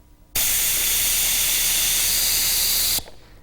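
Compressed air rushes out of the disconnected pilot port of a Rockwell air valve set to low range, a loud, steady hiss that starts abruptly, holds for under three seconds, then cuts off.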